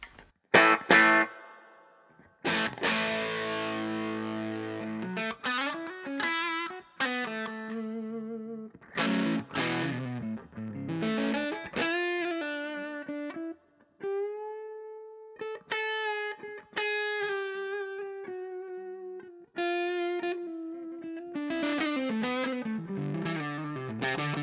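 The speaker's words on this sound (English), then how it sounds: "My favourite tone I got out of this pedal when I backed the distortion back to around 11 o'clock." An electric guitar played through a cheap distortion pedal with the distortion set around 11 o'clock gives a crunchy, sustained tone, with chords and single-note lines rising and stopping in phrases separated by brief gaps, alone and up close.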